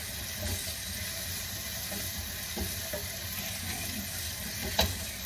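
Onions frying with salt in a pan for vegetable stir-fried rice, giving a constant close hiss and sizzle with faint stirring scrapes and one sharper clack near the end.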